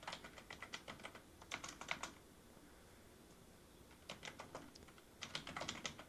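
Computer keyboard typing in short bursts of quick, crisp key clicks, separated by a pause of near silence, close and moderately quiet.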